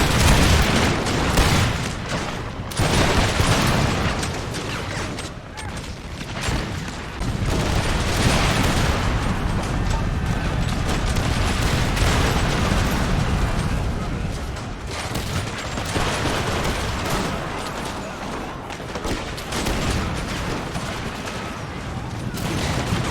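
Musket and cannon volleys firing in the battle game Empire: Total War, a dense, continuous crackle of massed gunfire with heavy booms mixed in, steady and loud throughout the whole stretch, with a voice talking over it.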